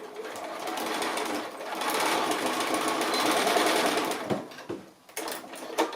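A sewing machine runs loudly for over four seconds, stitching backwards and forwards to hold the parts of a fabric Christmas basket together, then falls into short stop-start bursts and clicks.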